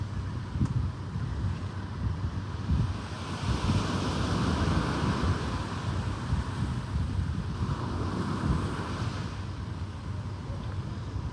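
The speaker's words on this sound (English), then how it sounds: "You could just hear the waves" Ocean waves wash onto the shore in a continuous, rolling surf roar with gusts of wind buffeting the microphone, no voices over it.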